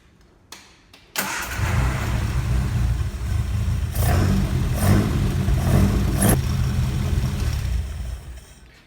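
A Ford Crossflow engine fitted with Accuspark ignition and a Dellorto carburettor cranks and catches after a click, then runs at a steady close idle with several short revs blipping above it.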